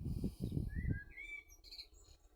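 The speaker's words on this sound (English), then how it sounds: "these Mr. Blackbirds are really going for it." A blackbird sings melodic, clear whistled phrases in a back garden orchard over low rumbling background noise, a few bright notes rising above a muddy low hum.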